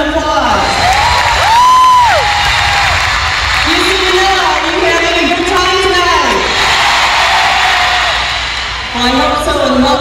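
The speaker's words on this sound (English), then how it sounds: "Please give another round of applause." An audience at a corporate party for an HSBC senior management dance performance applauds and cheers loudly, with whoops and shouted voices rising over a sustained crowd roar.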